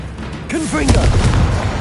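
Confringo blasting spell explosion in Hogwarts Legacy, a loud booming burst under a continuous rumbling game soundtrack, with a short whooshing sweep just before it and a voice speaking in the middle.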